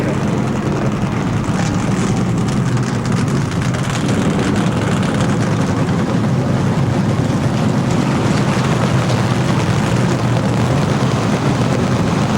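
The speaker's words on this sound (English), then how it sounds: "The traditional command being given to 40 racing teams to fire up their motors and be ready to do battle here this afternoon at Pocono International Raceway." Many NASCAR stock car engines firing and idling together at Pocono Raceway, a loud, steady, dense roar that fills the whole stretch without letting up.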